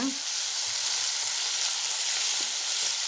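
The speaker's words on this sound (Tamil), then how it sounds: "நாலு வெங்காயத்தை இதே நல்லா வதக்கிடணுங்க" Four finely chopped onions fry in a pan, a steady broadband sizzle holding evenly at moderate loudness for a few seconds with faint stirring clinks beneath and no talking.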